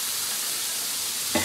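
Hilsa pieces dropped into a pan of well-fried spice masala, a steady close sizzle and hiss of oil running throughout, with a brief louder splash right at the end.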